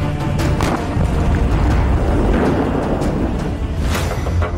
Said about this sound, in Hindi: इस गुंबद के ऊपर लगे रूस के झंडे के पास धमाका होता है